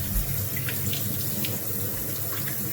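Kitchen tap running steadily while rice is rinsed in a pot, a continuous splashing water stream with small clinks and swirls, close and fairly loud, no voices.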